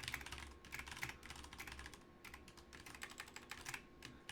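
Computer keyboard typed on while writing programming code, an F string print statement, with rapid, dense keystrokes in steady clusters, close and clear, with no one talking.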